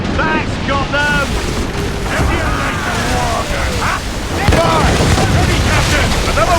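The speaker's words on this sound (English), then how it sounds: "Ready those mortars, Shay." A naval battle in Assassin's Creed Rogue: mortar fire and booming explosions thud repeatedly around the ship, mixed with shouting voices and dense battle din.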